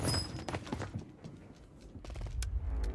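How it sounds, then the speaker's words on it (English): Footsteps and ladder climbing in the battle royale game Warzone: a quick, irregular run of hard thumps and scuffs that sits close and fairly loud over a low background rumble of game noise. "I heard ladders, I heard footsteps."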